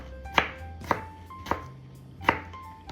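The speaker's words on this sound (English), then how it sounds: "To get like little matchsticks, you cut it." A knife cuts a piece of cucumber into small matchsticks on a board for spring rolls, giving four sharp, evenly spaced chops close by, with quiet pauses between them.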